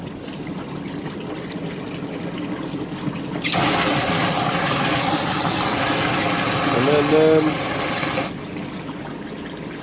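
Loud rushing water drains out of a pond filter outdoors in a steady gush for several seconds, ending abruptly, with a brief spoken remark at the start.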